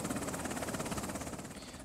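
A helicopter in the video game Afghanistan '11, with a steady, close, rhythmic rotor thump over a broad engine whine, heard alone for about two seconds.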